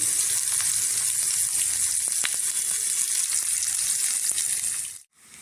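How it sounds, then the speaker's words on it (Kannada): Dry red chillies, garlic and small onions fry in hot oil for a cabbage sambar tempering, a steady close sizzle with faint stirring clicks, cutting out abruptly near the end. "ಇದೆಲ್ಲ ಸ್ವಲ್ಪ ಚೆನ್ನಾಗಿ ಫ್ರೈ ಆಗಲಿ"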